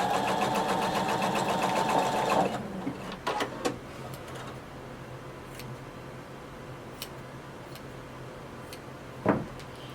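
A sewing machine runs a seam on a floor-length duster cardigan in a short, steady burst, then stops, leaving a few light clicks and handling sounds from the fabric and machine.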